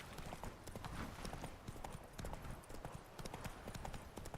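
Roach the horse gallops in Witcher 3, hooves drumming in a rapid, steady clip-clop rhythm throughout, fairly faint and close, with no talking.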